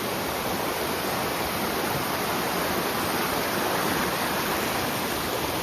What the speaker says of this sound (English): It's dumping 50-mile-per-hour river.